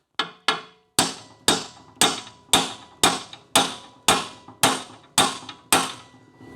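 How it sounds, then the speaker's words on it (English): Hammer blows tapping a part into place on a Tiger Cub motorcycle frame in a workshop, about a dozen sharp ringing metallic strikes at a steady, slightly irregular pace, loud and close. "Maybe I need a bigger hammer."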